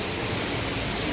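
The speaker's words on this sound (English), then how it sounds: "It's a nice waterfall." Steady, dense rush of falling water from an artificial waterfall at a Disney World park, a continuous broadband wash with no breaks or voices.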